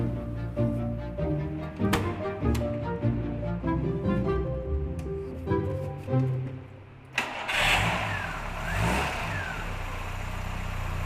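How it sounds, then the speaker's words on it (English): A 1987 Ford Capri Laser engine cranks with a steady whirr, then catches with a sudden burst and settles into a loud, rough running roar. "as we go for an engine start"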